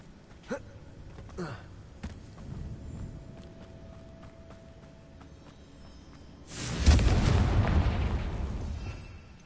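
In Hogwarts Legacy, the Confringo fire spell lands with a deep, rumbling blast that swells up loud after several seconds of quieter game sounds and small pops, then lingers as a rolling explosion.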